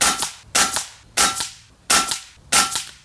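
Five evenly spaced shots from an FX Wildcat .22 caliber air rifle with a 700 barrel at a range, each a sharp loud crack with a short tail, close and alone.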